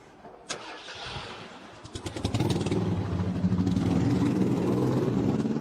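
A boat engine is cranked, catches and roars up, then settles into a loud, steady idle running close by.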